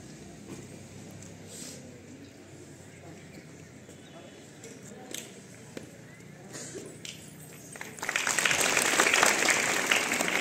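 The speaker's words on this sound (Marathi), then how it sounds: "सर्वांनी टाळ्या वाजवते" School students at a Republic Day assembly break into clapping at about eight seconds, a dense burst of applause following quieter crowd murmur and shuffling.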